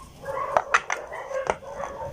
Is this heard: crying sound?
no